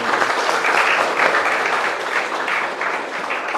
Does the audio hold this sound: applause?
yes